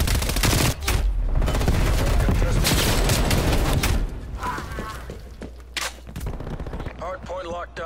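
Rapid bursts of pistol gunfire in Call of Duty: Black Ops Cold War, dense and loud for the first few seconds, then thinning out as voices and game sounds take over.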